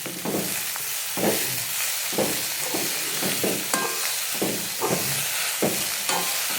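Leafy thoran greens stirred in a hot pan with salt and a pinch of turmeric, giving a steady close sizzle broken by repeated rhythmic scraping strokes of a spoon, with no talk.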